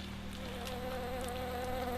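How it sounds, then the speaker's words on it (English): Bees buzz in a continuous, even drone that stays close and fairly quiet throughout, with no voices over it, in a low-budget comedy film. "Bees."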